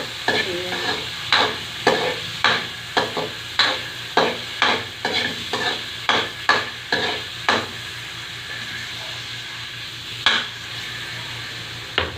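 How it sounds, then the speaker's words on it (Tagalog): Garlic and onion sauté with mung beans in a pan, a soft sizzle beneath a rapid series of sharp spatula strokes against the pan, roughly one or two per second, pausing briefly before a last few scrapes. "Ididiretso natin ang ating gisa-gisa. Pati yung munggo."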